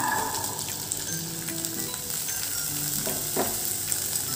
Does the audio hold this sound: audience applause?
no